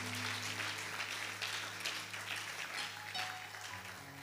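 A church congregation applauding during a sermon, a sustained faint mass of clapping over a low organ or keyboard hum.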